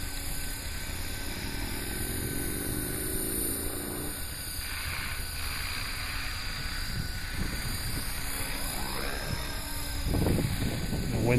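A Trex 450 clone RC helicopter fitted with a Flymentor flies outdoors in gusty wind, giving a steady, continuous high rotor whine that holds throughout, with rumbling wind noise beneath it.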